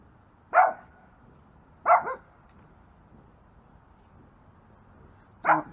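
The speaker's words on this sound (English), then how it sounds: "dogs are going nuts. They hear something." Dogs bark three times, each a single bark with long pauses between, sounding somewhat distant and moderately loud over a quiet background.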